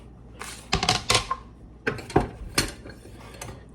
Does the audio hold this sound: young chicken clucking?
no